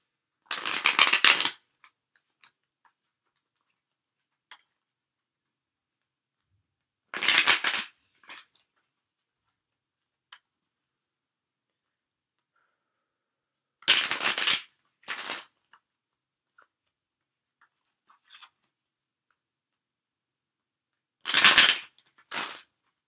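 Four brisk bursts of tarot cards being shuffled, each lasting about a second, separated by quiet pauses with a few faint taps and clicks.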